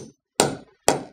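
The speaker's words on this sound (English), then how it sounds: "You just used a metal hammer on your tool." Two sharp, loud metal hammer strikes on a leatherworking tool, spaced about half a second apart in a quiet room, each with a short ringing decay.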